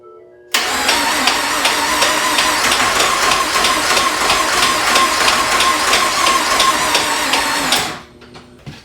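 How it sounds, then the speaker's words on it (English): A 2014 Ford F-150 EcoBoost engine cranks without catching: the starter churns in a steady, rapid rhythmic whir for about seven seconds, loud and close, then stops abruptly. "So I figured a good first way to start would be just to try and start the engine."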